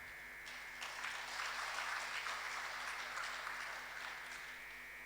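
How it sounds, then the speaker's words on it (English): Workshop attendees applaud themselves, faint distant clapping that rises after a brief quiet start and holds steady, with a constant electrical hum beneath. "Let's give ourselves a big clap."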